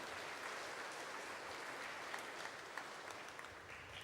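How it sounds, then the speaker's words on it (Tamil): A church congregation at a Tamil Sunday Mass for the Pongal celebration claps steadily, a dense wash of applause from a large crowd that holds throughout. "உங்களுக்கும் ஒரு பெரிய கைத்தட்டு"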